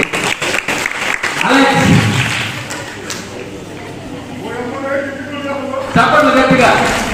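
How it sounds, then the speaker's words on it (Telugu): Applause rises at a New Year celebration at home, mixed with loud voices and talk, swelling in the middle and again near the end. "చప్పట్లు గట్టిగా."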